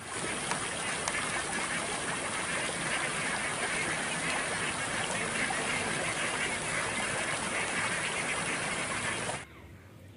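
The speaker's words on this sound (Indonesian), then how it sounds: "Dan juga ada bebek, teman-teman." A duck quacks inside the game Jurassic World Evolution 2, coming through as a dense, loud, continuous stream of noisy sound that stops abruptly near the end, with no talk over it.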